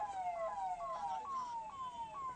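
A wailing siren from an ambulance and police vehicle convoy in India, rising and falling in repeated quick sweeps, loud and fairly close over faint road noise.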